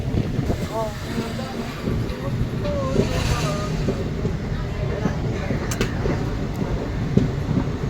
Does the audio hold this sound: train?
yes